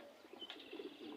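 Pigeon cooing softly, a short low coo or two at close range in a quiet space, with a faint brief chirp.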